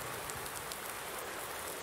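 Steady rain pours in Farming Simulator 19, a dense, even hiss of falling water with no breaks, close and continuous on its own.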